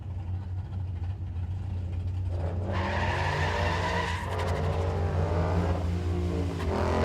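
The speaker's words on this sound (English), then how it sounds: "Got aggressive on it there. Pulled the tires pretty hard through first gear." A Grabber Blue Ford Mustang drag car launches hard at a drag strip, tires spinning and squealing through first gear as the engine roars up, loud and alone, after a steady idle.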